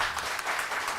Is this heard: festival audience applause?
yes